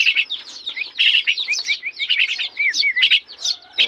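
Three hungry maya sparrow chicks chirp insistently, a close, loud run of rapid high tweets with barely a pause, tumbling over one another in continuous bursts.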